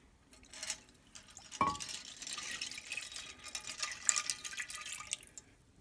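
Water, one and a half cups, is poured into a 13x9 baking dish of uncooked pasta, making a close, steady splashing and trickling that runs for several seconds, loudest near the start and fading toward the end.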